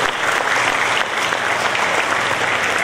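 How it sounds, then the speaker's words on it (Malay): An audience at an official ceremony breaks into dense, sustained applause, loud and steady clapping from a large crowd without pause. "Kita beri tepukan kepada anda."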